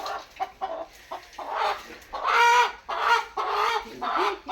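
A hen clucks and squawks in agitated bursts as it is grabbed at a village home where it had laid eggs, loud and close, the cries rising and falling in several uneven rounds.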